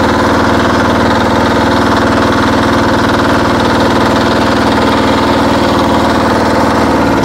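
A vehicle engine with a six-speed gearbox runs steadily, a loud, close, continuous rumbling drone with a regular throb, alone without talk.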